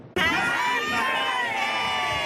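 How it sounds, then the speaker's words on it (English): Shoppers in Ottawa's ByWard Market celebrating Giant Tiger's 65th anniversary, a sudden loud swell of cheering and shouting from a large crowd that holds steady throughout. "A crowd of shoppers celebrating 65 years of Giant Tiger in the ByWard Market of Ottawa."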